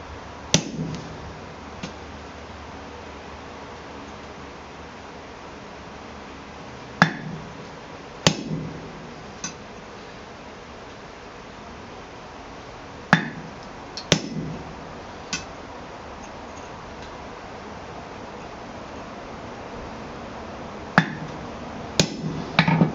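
A hammer strikes a punch into cold steel to cut hash marks on blacksmith tongs: sharp metallic blows in small clusters separated by quiet stretches of room hiss.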